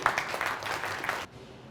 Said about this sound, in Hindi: वेरी गुड, जोरदार तालियां होनी चाहिए।